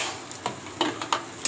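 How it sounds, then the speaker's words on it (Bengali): Prawns going into a fried spice paste in a pan: a quick run of crisp spatula scrapes and taps over a faint background sizzle, close by and brief. "এবার আমি একটু চিংড়ি মাছটা ফেলে দেবো"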